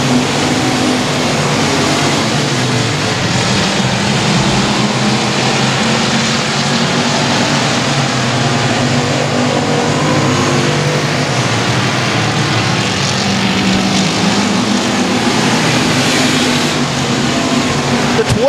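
Race cars circling Sabine Speedway, a loud, continuous roar of several engines blending into a steady, dense wash of noise throughout.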